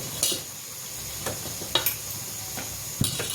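Spinach puris fry and puff in hot oil over a full flame, a soft bubbling sizzle broken by several sharp clinks and taps from a utensil against the pan, with no talking.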